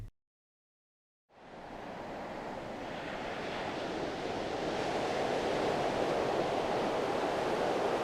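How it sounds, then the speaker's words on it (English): Waves wash onto a beach under a slight breeze, rising out of near silence into a steady, soft surf hiss that grows gradually fuller, with no voices. "There's just a slight breeze down at the beach as well."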